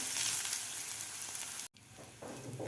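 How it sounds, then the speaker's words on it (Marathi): Asafoetida, turmeric, curry leaves, chilli and ginger fry in hot oil with a loud, close sizzle that cuts out abruptly for a moment, then resumes more quietly. "थोडासा हिंग हळद आता व्यवस्थित आपल्याला एक मिनिटभर हे फ्राय करून घ्यायचं आहे"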